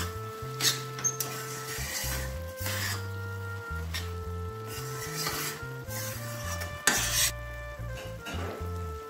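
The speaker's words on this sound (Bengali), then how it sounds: "আর একবার নেড়ে দিচ্ছি।" Chettinad prawn curry being stirred in a pan: close, rhythmic scraping and rubbing strokes over a soft sizzle, with a few sharper clinks against the pan and background music underneath.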